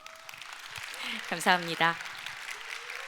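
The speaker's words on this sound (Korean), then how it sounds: "네 분의 패널께 여러분 다시 한번 박수 부탁드립니다" An audience at a conference session applauds a four-person panel, the clapping moderate and steady in the background while a voice briefly speaks over it midway.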